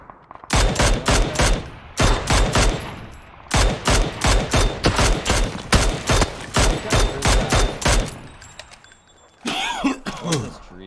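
Rapid bursts of automatic gunfire from the battle royale game PUBG, loud and close, coming in long dense strings separated by short pauses, with a brief different sound near the end.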